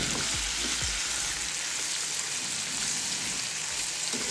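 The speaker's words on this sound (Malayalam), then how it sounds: "ഓണിയൻ നന്നായിട്ട് വഴറ്റിയെടുക്കാം. ഹൈ ഫ്ലെയിമിൽ വെച്ചിട്ട് തന്നെ വഴറ്റിയെടുക്കണം" Onions and curry leaves sautéing on high flame, a loud, dense, constant sizzle with a couple of low thumps of stirring near the start.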